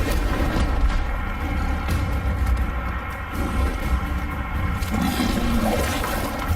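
A fire spell, Incendio, is cast in the Hogwarts Legacy video game, giving a loud, rushing whoosh and rumbling burst that fills the whole stretch with dense noise.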